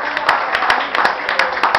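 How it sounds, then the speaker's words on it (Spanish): Concert audience applause, a steady wash of many hands clapping with sharper individual claps poking through, sustained and fairly loud throughout. "otra vez un gran aplauso para..."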